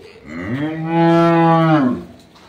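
A dairy cow at a farm gives a single long moo, close and loud, rising and holding steady before fading away.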